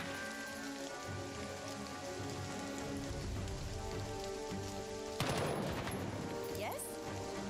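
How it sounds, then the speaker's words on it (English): Enemy gunfire in the turn-based tactics game Jagged Alliance 3, a dense continuous rattle of shots blending into a rain-like crackle, with a sharper louder burst near the end and a voice faint beneath. "Now they're all shooting us."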